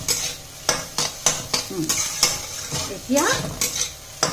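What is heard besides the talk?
frying raw chickpeas and green chilies in a pan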